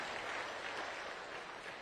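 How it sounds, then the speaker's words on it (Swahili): Audience at a funeral gathering applauding, a dense, even clapping from a crowd that stays steady for a couple of seconds, fairly distant and soft. "Tumpigie makofi Bashir."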